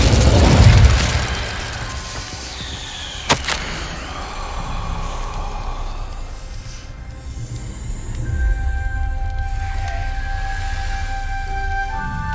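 Casting the Incendio fire spell in Hogwarts Legacy sets off a loud whooshing burst, followed by a sharp crack and a fading rumble. Tonal game ambience and chimes are layered over the sound.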